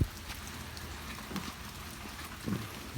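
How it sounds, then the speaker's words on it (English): Steady rain hissing down at close range, a dense constant wash of drops with a few louder patters and no voices. "It is really raining"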